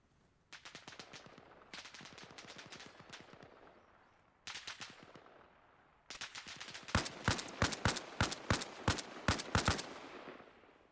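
Gunfire from the left in ArmA Reforger, first scattered automatic bursts at moderate distance, then a louder run of sharp, evenly spaced cracks near the end.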